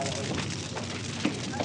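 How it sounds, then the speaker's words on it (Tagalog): Loud fire burning close by, a dense continuous roar with crackling and a few sharp pops scattered through it. "May sunog."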